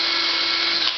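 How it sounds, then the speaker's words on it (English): A power drill whines at a steady high pitch while boring a hole through the roof of a bee trap. The sound is close, loud and continuous for a full second. "I take my drill, I drill a hole through"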